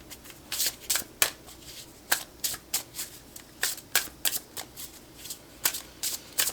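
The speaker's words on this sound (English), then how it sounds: "I'm gonna pull a couple cards from the Woodland Wardens" A Woodland Wardens tarot card deck is shuffled by hand in repeated crisp riffles and slaps, close and clear, in irregular bursts with short pauses between them.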